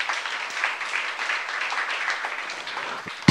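Steady applause from a church congregation fills the whole stretch, even and sustained, ending with a sharp thump.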